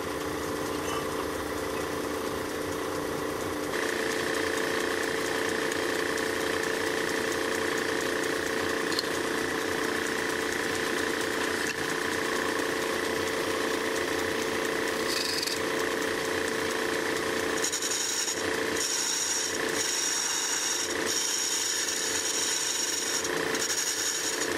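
New wood cores for 1857-patent Sarven wagon hubs are turned on a lathe, a continuous loud whirring hum with a steady scraping tool cut and some brief shifts in pitch, with no voices.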